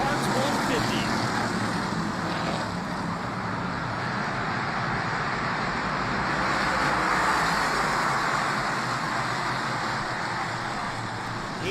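Race cars roar down the back straightaway at Lancaster Motorplex during the 2023 Nu-Way Auto Parts 150. A continuous loud engine drone carries throughout, with an announcer talking over it.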